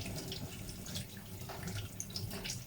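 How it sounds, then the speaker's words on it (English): Stone apple (Aegle marmelos) fruit being washed under running water at a sink, a faint, continuous trickle and splash with small drips. "wash the stone apple as usual"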